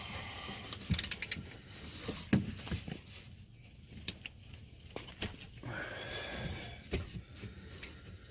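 A 17mm wrench breaks loose the oil drain plug on a 2015 Mitsubishi Lancer Evo X GSR, giving a few sharp metallic clicks and ratchety scrapes amid faint shop rustling, close and moderately quiet.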